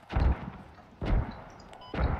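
Three heavy, booming gunshots in the Squad video game, spaced about a second apart, each a deep thump with a short decaying tail.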